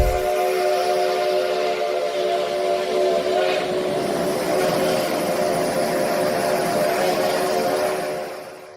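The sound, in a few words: steam locomotive whistling and releasing built-up water and sediment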